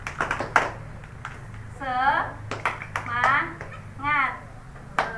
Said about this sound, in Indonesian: Ibu punya tepuk semangat.